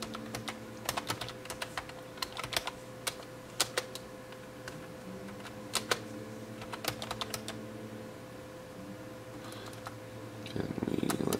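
Keys clatter on a computer keyboard in irregular bursts of close clicks and taps, continuing steadily for around ten seconds with no talking.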